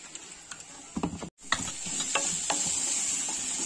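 A spoon scrapes and stirs crab curry in a pan in short, uneven strokes over a soft sizzle, with a brief pause partway through before the stirring resumes.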